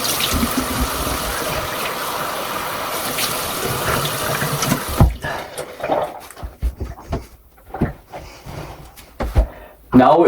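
Tap water runs steadily into a sink for about five seconds as face skincare product is rinsed off, then gives way to intermittent splashing and patting sounds.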